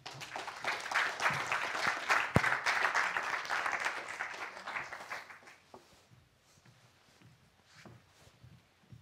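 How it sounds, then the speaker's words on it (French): An audience applauds a design studio invited onstage, dense clapping that swells, holds for several seconds, then tapers to scattered claps and quiet room noise. "je vous demande d'applaudir le Hill Studio"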